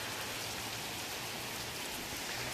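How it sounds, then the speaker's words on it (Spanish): Heavy downpour of rain in Pueblo Nuevo on a motorcycle trip, a dense steady hiss of falling water, fairly faint and unbroken, with no voices. "Está un aguacero asqueroso"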